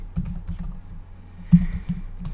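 Slow typing on a computer keyboard, a handful of separate close key clicks with pauses between them, then a quick burst of keystrokes.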